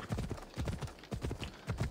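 Horse hooves clip-clopping in Assassin's Creed Odyssey, a steady rhythmic trot of hoof strikes close up, loud and continuous with no talk over it.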